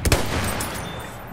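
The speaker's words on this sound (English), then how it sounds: "I'm mortaring the house." Mortar fire in the Battlefield 1 video game: a loud, close explosive boom at the start, followed by a fading rumbling tail with no voices.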